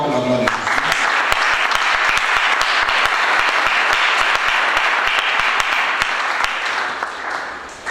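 A church congregation applauding after a call to praise Jesus, dense loud clapping sustained for several seconds before tapering slightly at the end, with some voices mixed in.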